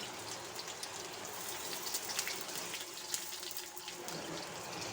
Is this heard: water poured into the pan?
yes